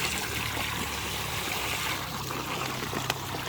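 Fresh water pours in a steady, close trickle for a few seconds into a container holding koi carp, with a small knock near the end.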